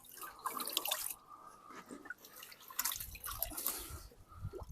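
Water dripping and spilling from the holes in a pond net's handle: close, irregular drips and small splashes in quick succession, with a light wet patter throughout.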